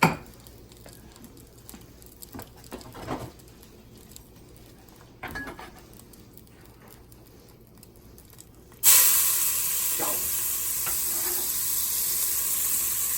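Onions dropped into hot oil in a pan burst into a loud, steady sizzle that continues unbroken, following a quieter stretch of faint clinks and pan handling.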